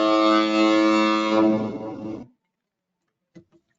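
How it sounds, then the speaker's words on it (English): A deep, loud foghorn blast near the San Francisco shoreline holds for about two seconds, then cuts off into near silence broken by a couple of faint knocks. "I know you guys know what foghorns sound like"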